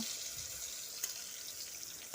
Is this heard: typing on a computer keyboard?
no